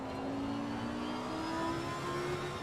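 A racing car engine revving in a driving video game, a steady droning whine rising slowly in pitch as it holds the revs, continuous and moderately loud, no talk.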